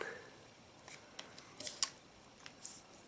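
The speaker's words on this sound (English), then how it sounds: "I'm going to fold this right on the crease line" Crisp paper crinkles and creases as a dollar bill is folded along its crease line, a few short faint rustles and snaps spread over a quiet background.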